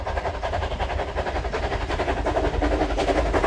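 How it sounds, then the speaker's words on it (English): A train rolls into a French station platform, with a loud, steady low rumble and rhythmic wheel clatter continuing throughout, up close and without speech. "That's my train."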